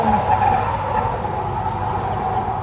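Car tires lock up and screech in a sustained skid under a steady engine rumble, a continuous squealing drone throughout.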